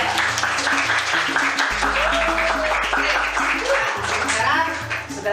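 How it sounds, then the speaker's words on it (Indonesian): An audience claps after a classroom presentation, with many hands together at a moderate level alongside a speaking voice and a low electronic hum. "Kita apresiasi tepuk tangan nomor 1,"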